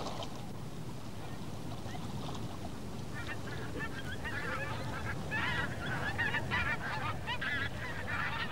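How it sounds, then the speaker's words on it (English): Migrating geese honking as they pass overhead through the Arctic night sky on their way south. The calls come in a loose, repeated series, moderately distant, above a steady bed of wind and microphone rumble. "Geese cross the night sky, heading south from their Arctic homelands."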